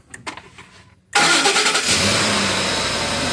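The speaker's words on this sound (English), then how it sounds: "So do a crank right now." A 2010 Ford F150 with a no-start fault cranks: after a second of faint clatter, a loud steady engine roar kicks in abruptly and holds close up for the rest of the moment.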